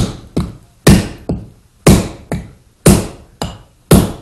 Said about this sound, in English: This is how you drive the wedge home.